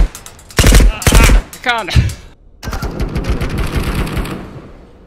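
Gunfire in an extraction shooter game, loud rapid bursts of automatic shots in close succession, followed by a longer stretch of sustained firing, with players talking over the action.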